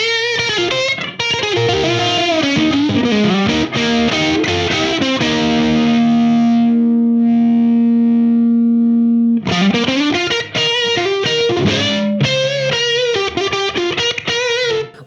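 Electric guitar played through an effects unit on its GB30 distortion setting, loud sustained distorted chords and riffs, a held ringing chord in the middle before more strummed bursts, no talking.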